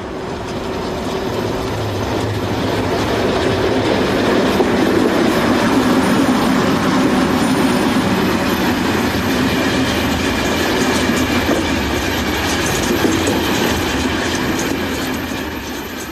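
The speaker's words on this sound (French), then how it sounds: "Sur voie 2 rapide, se présente une rame dite de la Grande Couronne, en provenance de La Roche" An SNCF commuter trainset of the Grande Couronne type runs past on the Paris–Dijon main line, a loud, steady, close roar of wheels and rolling stock with faint rhythmic clickety-clack over rail joints, sustained throughout with no talking.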